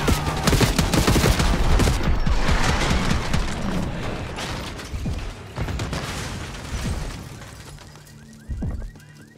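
Rapid bursts of gunfire and booming explosions erupt in a Call of Duty Black Ops 6 campaign street ambush on a limousine, loud and dense at first, then thinning into scattered shots and mechanical clanks.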